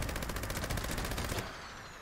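Rapid, dense Gauss minigun fire in Fallout 76, a continuous loud stream of overlapping shots that cuts off abruptly partway through, leaving a fading tail.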